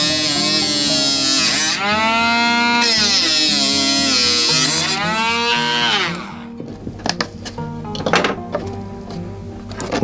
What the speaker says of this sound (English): Slice that with the Dremel.